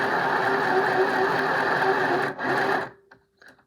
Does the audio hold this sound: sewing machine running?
yes